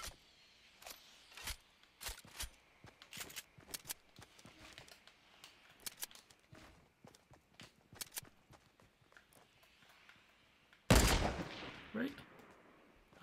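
Rapid bursts of gunfire in the Fortnite video game, played on Nintendo Switch, crack out as many sharp shots in quick succession across the clip, with a louder, denser volley near the end.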